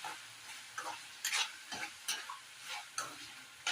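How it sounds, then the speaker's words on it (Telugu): Chicken being stirred in a pan after ginger garlic paste is added, for Guntur gongura chicken: a run of scraping stirs in a rhythmic series over a soft sizzle, close and moderately loud, with no talking. "దానిలో కొంచెం అల్లం వెల్లుల్లిపాయ పేస్ట్ యాడ్ చేసుకొని కలుపుకోవాలి"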